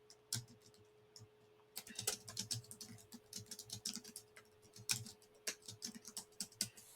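Rapid clicky keystrokes on a computer keyboard come in quick irregular bursts, close and fairly quiet, with a faint steady hum underneath and no talking.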